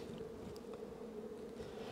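Honey bees drone inside an open hive during a spring inspection, a dense, steady, close buzz from many insects at a low hum, faint overall with no talk.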